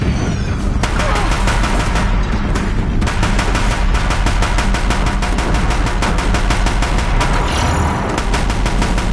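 Deathbringer machines firing their guns in Horizon Zero Dawn, loud rapid volleys of shots hammering on almost without pause.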